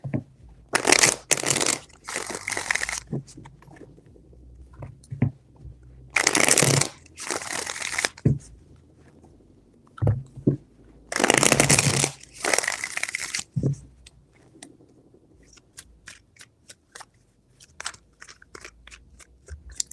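Tarot cards are shuffled in four quick riffling bursts, each a crisp flurry of fluttering snaps, separated by quiet handling noises.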